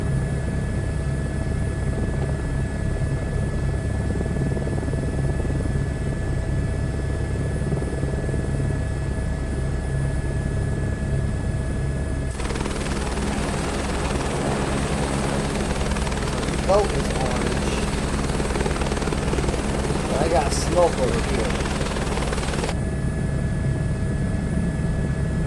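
Helicopter in Microsoft Flight Simulator 2024 flying a hoist rescue mission in gusty winds, a steady rotor and turbine drone running throughout, thickening and louder midway, with someone talking over it.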